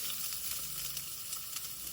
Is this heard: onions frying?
yes